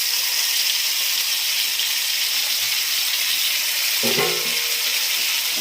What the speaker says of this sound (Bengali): ঘিটা গরম হয়ে গেছে, ঘিয়ের মধ্যে আমি এই বাটা ডালটা দিয়ে দিলাম